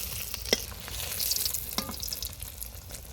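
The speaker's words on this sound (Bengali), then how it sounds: "এই যে মাছ ভাজাটা হচ্ছে দেখো" Fish frying in hot oil in a pan until deep red, a steady dense sizzle running throughout, with a couple of brief louder crackles and faint utensil sounds close by.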